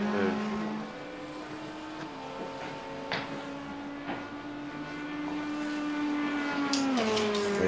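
Race car engine in a racing video game at Imola, a steady sustained tone holding pitch with slight rises and dips, moderately loud and continuous with no talk.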